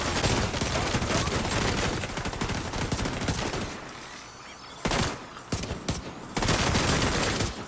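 Dense, rapid gunfire in a shooter video game, a sustained fusillade of overlapping shots that dips briefly before loud bursts return in short, punchy volleys.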